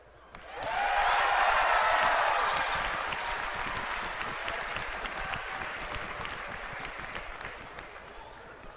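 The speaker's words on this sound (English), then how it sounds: "I like how we could get that kind of cheer when we introduced reforging and the same cheer when we get rid of it." A large convention audience at BlizzCon 2013, a World of Warcraft event, bursts into loud cheering and sustained applause that peaks early and then gradually eases while staying strong.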